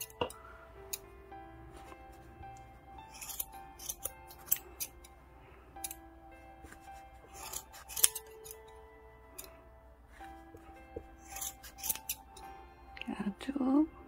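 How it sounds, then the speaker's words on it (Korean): Scissors snipping crochet yarn for a pom pom on a winter hat, repeated crisp close cuts spread through the passage, with a voice speaking softly in between. "자, 이제 가위로 예쁘게 잘라주시면 되는데요."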